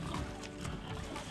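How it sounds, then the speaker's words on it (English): Hungry pigs grunt and snuffle close by in a dense, continuous jumble of rough sound, with liquid splashing and a brief voice mixed in. "Look at those hungry pigs."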